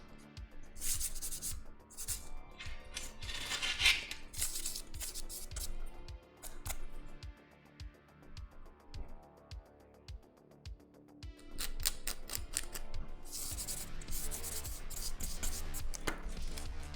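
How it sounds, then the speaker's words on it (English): Blade or tool scraping through the laminate lining inside a high-quality cardboard shipping box, harsh rasping strokes in uneven bursts with short pauses, close and loud, no talking. "You get this nice laminate on the inside that you have to scrape through."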